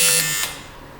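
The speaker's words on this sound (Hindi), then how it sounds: "सही बजर।" A quiz show buzzer sounds for a correct answer, a short bright electronic tone lasting a fraction of a second, loud and up front, then trailing off into quiet studio ambience.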